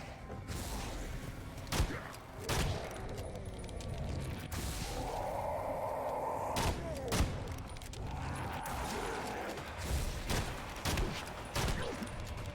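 Gunfire rings out in the video game Evil Dead, with repeated sharp shots and thuds spread across the stretch over a constant background of game noise and mechanical clatter.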